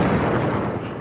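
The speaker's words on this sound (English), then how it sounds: "the Massive Ordnance Air Blast Bomb, or MOAB" A deep, loud blast from a GBU-43/B MOAB (Massive Ordnance Air Blast) bomb detonating, a sustained low rumble filling the whole second without a break.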